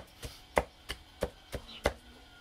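A knife mincing ingredients for a Vietnamese salt dip on a cutting board, six evenly spaced sharp chops at close range with no talking.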